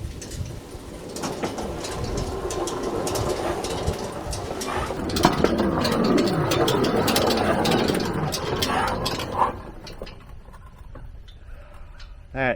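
A small braked rail cart with reverse rolls smoothly along a railroad track, a steady continuous rumble and clatter with faint bird chirps, fading quieter near the end.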